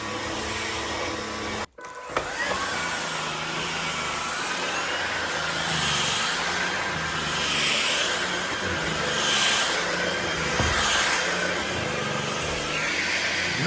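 Levoit vacuum cleaner running steadily on carpet, a continuous close motor whine with a brief cutout early on and slight swells as it passes over the pile.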